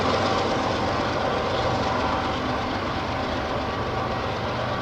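Loud, steady rumbling of a massive freight train hauled by six engines passing nearby, continuous wheel and car noise with low engine drone and no voices.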